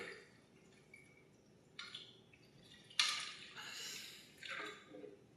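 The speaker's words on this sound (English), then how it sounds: "Just pop this up right here and pour the water" Water is poured into a FIXT filter pitcher through a pop-up flap in the lid; faint splashing and trickling come in a few short bursts against a quiet background.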